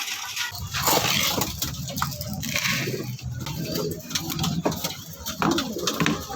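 Racing pigeons coo softly and repeatedly close by, with fluttering and light pattering in the background.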